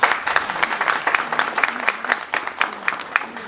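A crowd applauding steadily, dense overlapping claps at moderate volume with no talk over it.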